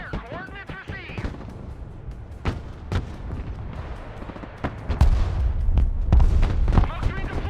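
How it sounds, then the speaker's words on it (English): Artillery fire rumbles in the Broken Arrow real-time strategy game, with sharp booms and deep thumps spaced irregularly and a heavier rolling barrage toward the end, while someone talks over it. "Let's lead them a little bit with the artillery."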